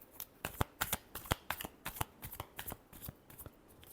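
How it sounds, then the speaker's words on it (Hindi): Tarot cards shuffled by hand in a quiet room: a rapid run of sharp riffling slaps and flutters, close and crisp, repeating in quick bursts for a few seconds. "Last shuffle."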